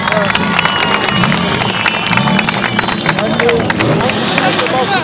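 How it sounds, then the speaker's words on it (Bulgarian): A crowd bursts into sustained applause, with clapping and cheering mixed with loud background chatter. "Аплодисменти за Тодор Дунев!"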